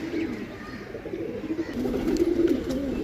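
A Farsil pigeon coos softly and repeatedly in a low, throaty rhythm, the murmuring calls building slightly louder toward the end over faint background noise.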